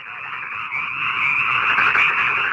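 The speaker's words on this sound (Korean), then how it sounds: "아이고, 웬 개구리 떼가 극성이냐" A dense swarm of frogs croaking in an animated Bible story about the plague of frogs in Egypt, a continuous loud chorus of overlapping croaks with no talking.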